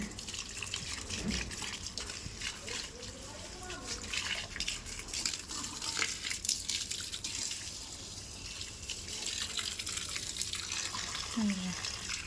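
Water poured onto garden plants such as rose, guava, hibiscus, mango, jasmine and tulsi, a steady splashing wash running the whole time with nearby talk over it.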